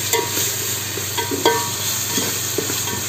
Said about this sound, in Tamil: இந்த நேரத்தில் வந்து நம்ம இஞ்சி பூண்டு பேஸ்ட் போட்டுக்கலாம்